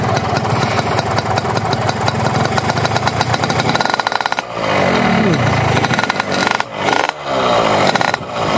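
Close and loud, a red 2008 Yamaha RX King with a modified exhaust revs in rough, rattling bursts, dipping and surging as the throttle is blipped, with someone speaking over the engine.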